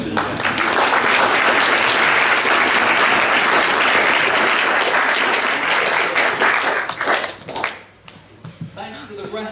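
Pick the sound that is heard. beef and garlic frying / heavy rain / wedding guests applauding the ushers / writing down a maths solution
wedding guests applauding the ushers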